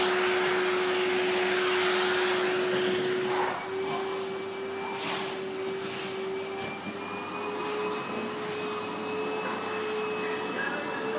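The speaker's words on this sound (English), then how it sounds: "Put the hair tie onto the Hoover." A Hoover vacuum cleaner runs loud and steady from start to finish, a constant whining roar with a high pitched tone; the pitch and airflow shift slightly partway through as something is pressed against the nozzle.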